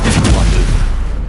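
Incendio fire spell cast in Hogwarts Legacy, a loud, close whooshing burst of flame with a heavy boom that fades over about a second.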